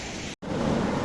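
Sea waves break against rocky cliffs in a steady roaring wash of surf, close and loud, with a brief cut to silence partway through.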